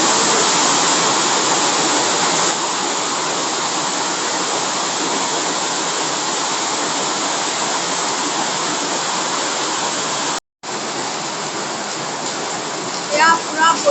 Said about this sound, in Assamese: এয়া পূৰা বৰষুণ আজি আমাৰ ইয়াত।